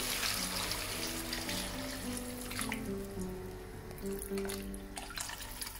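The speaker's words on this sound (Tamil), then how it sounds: "ஒரு லிட்டர் தண்ணி விட்டுருக்கிறேன்." Water runs and splashes steadily into a cooking pot of mutton bone rasam with spices, about one litre, with a changing pitch as the vessel fills; continuous, close by, moderate volume, no talking.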